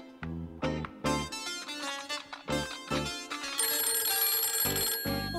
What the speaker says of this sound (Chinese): 我来接电话。